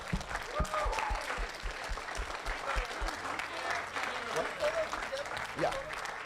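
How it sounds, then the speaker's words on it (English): Audience applause at an award ceremony, steady clapping filling the room throughout, with voices and cheers mixed in over it. "Can I get one more round of applause for all the great Beavers behind me?"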